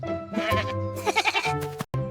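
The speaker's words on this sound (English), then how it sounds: "This is a goat." A goat bleats in a wavering, nasal cry, close and prominent over a bouncy nursery-rhyme song with steady musical accompaniment.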